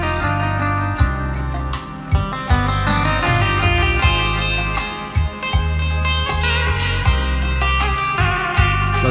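Music plays through a Japanese Pioneer tweeter: bright, sharp-sounding recorded music with a steady beat and punchy bass pulses, continuous and with no talking.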